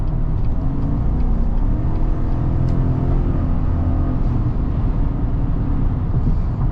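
A 2022 GMC Sierra 1500 pickup with a 6.2-litre V8 and 10-speed automatic builds speed, its engine a loud, steady rumble and whir heard from inside the cab with no speech.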